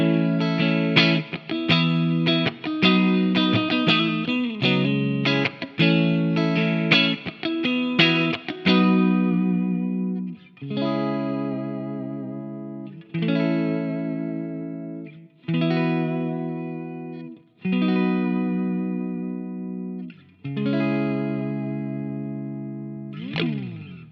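Schecter Nick Johnston electric guitar through the clean low-gain channel of an ENGL Powerball II amp with plate reverb, a melodic line of quick picked notes and then slow ringing chords, each one decaying into a soft reverb tail.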